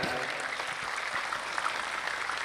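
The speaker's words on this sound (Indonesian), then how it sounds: "tepuk tangan untuk Az-Zahir." An audience at an Islamic religious gathering claps for a sholawat group, a dense steady applause that fills the whole stretch, with a little talk underneath.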